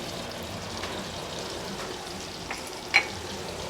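Flour and garlic cook into a roux in a pan, a soft, steady sizzle with faint stirring scrapes and one small clink near the end, no talking.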